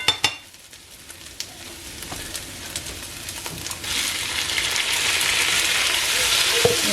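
Tomatoes stirred into a frying pan for Algerian mhadjeb, starting with a few scraping knocks, then a sizzle that swells and stays as a steady hiss, close and moderately loud.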